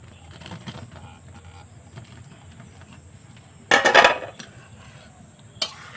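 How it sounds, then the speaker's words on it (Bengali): Palm-fruit pithas go into a pot of boiled milk with a short, loud metallic clatter lasting under a second, then one faint clink, against a quiet room with soft insect-like background hiss. "তো দুধটা আমি ভালো করে জ্বালিয়ে নিয়েছি, এবার আমি পিঠেগুলো দিয়ে দিচ্ছি।"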